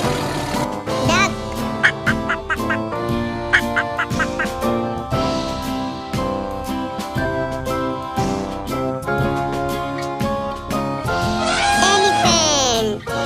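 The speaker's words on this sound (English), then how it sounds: "Duck." Cartoon-style duck quacks sound over bright, busy background music, mixed in with a run of playful effects.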